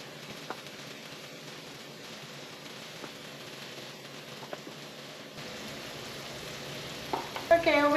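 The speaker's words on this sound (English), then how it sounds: "we're gonna put the fish in because I think our skillet's hot" Fish frying in a hot skillet, a soft continuous crackle and sizzle with a few small pops, faint and fairly distant, growing a little busier toward the end, with no voices.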